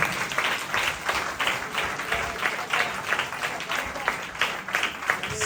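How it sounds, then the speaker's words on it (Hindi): A congregation at a Sunday worship service claps together, a moderate, steady ripple of many hands with a loose pulse, heard from within the hall amid general crowd murmur. "और सब मिलकर ताली बजाएं"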